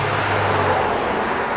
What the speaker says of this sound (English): Apologies for the traffic noise.